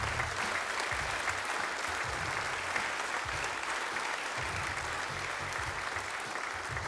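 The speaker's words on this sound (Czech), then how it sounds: "A to si zaslouží váš velký potlesk." Steady applause from an awards-ceremony audience honouring steelworkers, filling the room evenly and unbroken from start to finish with a faint low murmur beneath.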